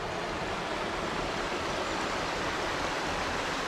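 Steady rushing flow of the Chernaya river in Crimea, near the Chernorechenskoe reservoir: a continuous, close, even wash of water with no pauses and no voices.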